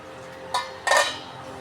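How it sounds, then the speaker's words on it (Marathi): Metal lid lifted off a pot of veg pulao on the stove, two quick clinks in close succession, the second louder and ringing briefly. "मी आता झाकण खोलून दाखवते"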